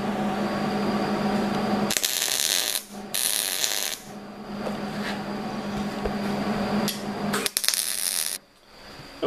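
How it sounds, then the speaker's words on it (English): A steel fire poker being MIG welded, giving a steady close crackling buzz in bursts between pauses, with short louder bright arcs of sizzle and a continuous hum underneath. "I'm going to MIG this real quick and show you the result."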